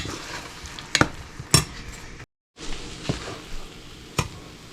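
A spoon scrapes and stirs a thick ground chickpea and sugar mixture in a pan, giving a few sharp clacks against a low sizzling bed with a brief silent gap, no talking.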